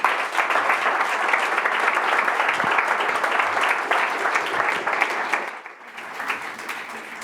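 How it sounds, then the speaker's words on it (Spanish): Sustained audience applause fills a Spanish conference hall as a speaker is called to the stage to accept an award, steady dense clapping throughout, easing slightly near the end. "un aplauso a Javier Margarit, por favor."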